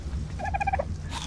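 A bird in ARK Survival Evolved gives a short, warbling run of four or five quick pitched notes, fairly close, over a low steady game ambience.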